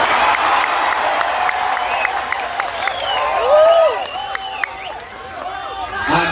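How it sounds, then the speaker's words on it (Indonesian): Applause from the audience at a religious lecture gathering in Taichung, dense and steady, with crowd voices and excited talk mixed in over the clapping. "Yang terakhir harus kencang tepuk tangannya"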